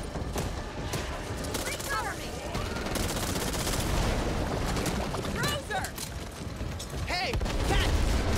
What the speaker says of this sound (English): You just sort of use the minigun